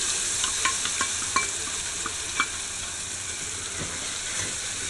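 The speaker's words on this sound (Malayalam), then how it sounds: "അരപ്പ് എണ്ണയിൽ നന്നായിട്ടൊന്ന് മൂപ്പിച്ചെടുക്കും." Ground masala paste sizzling steadily in hot oil for a Kerala-style mackerel curry, a dense continuous hiss with occasional soft stirring clicks, close and alone with no talk.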